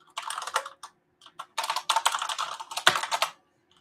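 Quick bursts of keystrokes tap on a computer keyboard as a password is entered, close and crisp, with brief pauses between bursts and one louder key press near the end.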